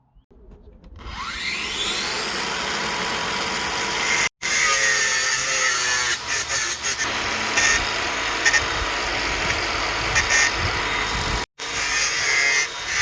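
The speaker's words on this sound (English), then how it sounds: "Bosch PVS 300 AE belt grinder to clean up the rusty material." A Bosch PVS 300 AE belt grinder cleans rusty scrap steel for a frame lock shim on an Avant Digger 260, running as a steady, loud abrasive whir that spins up at the start and continues with two brief cutoffs, no voices.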